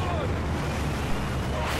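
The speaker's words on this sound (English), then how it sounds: "crashing waves" Ocean waves crash in the Battlefield 4 video game, a steady broadband wash of surf with wind-like rumble, loud and continuous over the short span, with possible faint talk underneath.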